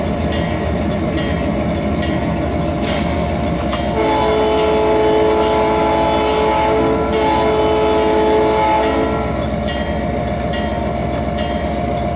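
A DCC model train layout's sound decoder rings its bell steadily for several seconds over a continuous engine rumble, with no voices.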